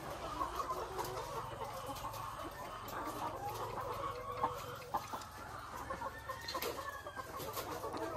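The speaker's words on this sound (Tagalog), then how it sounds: "Yung mga laman po dito, mga lowman layer chicken." Caged layer hens at a poultry farm cluck steadily in a dense, continuous flock chorus, with scattered louder squawks and cackles and a constant farm hum underneath.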